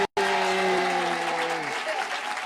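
Crowd applause for the president at a State House gathering of Sierra Leone women's groups, steady and loud after a brief gap, with a sustained voiced cry or ululation riding over the clapping before it gently tapers.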